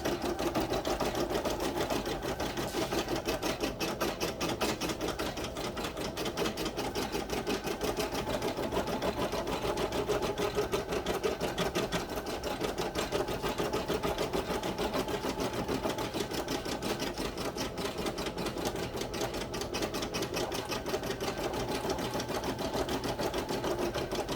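An embroidery sewing machine stitches out a sticky note holder, its needle hammering in a fast, steady, unbroken rhythm close by for the whole stretch, with no talking.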